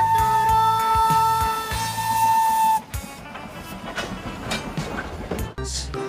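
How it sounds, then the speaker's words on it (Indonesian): A Thomas toy train gives off a loud electronic steam whistle and chugging jingle in a steady tonal pattern, followed by rattling, clattering mechanical noises and a brief final whistle burst. "Di sini ada kereta Thomas."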